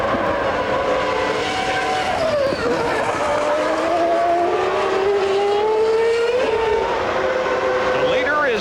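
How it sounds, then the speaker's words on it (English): Formula One race cars at the 1995 Canadian Grand Prix, a Ferrari chasing a Minardi through the island's hairpin, scream past with loud high-pitched engine whine sweeping up and down and tyre noise, under commentary. "Car 27, the Ferrari of Jean Alesi, as he goes around the east end of the island, the hairpin turn, pursuing one of the Minardis"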